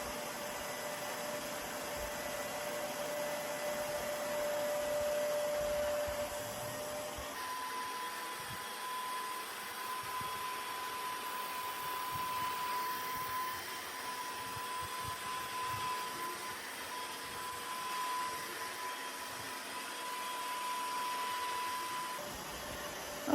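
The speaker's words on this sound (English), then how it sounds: "I'm going to go slow at first so I can give it a chance to put the solution down and suck it up." A Shark CarpetXpert EX201 upright carpet cleaner scrubbing and suctioning carpet, making a steady, fairly quiet motor whine with airy suction hiss. A tonal shift partway through is followed by a continuous drone with light scraping bumps, and no one talks.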